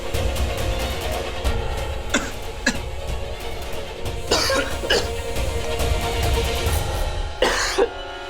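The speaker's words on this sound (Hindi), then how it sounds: "अचानक से खांसी का दौरा कैसे पड़ गया?" A sudden coughing fit in an indoor domestic scene, with repeated harsh, close coughs bursting out in clusters over a steady background, with no talking.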